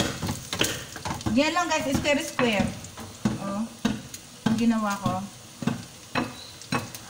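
A spaghetti ingredient fries in a pan, with a soft sizzle beneath scraping and stirring strokes of a utensil, while someone talks over the cooking.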